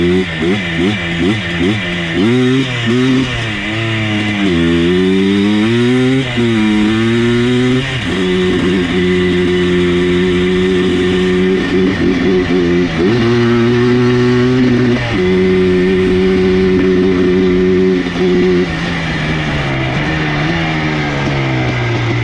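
Engine of an abandoned ATV running with an ignition fault, its pitch rising and falling unevenly with rough surging and sputtering, loud and close throughout, with someone talking over it.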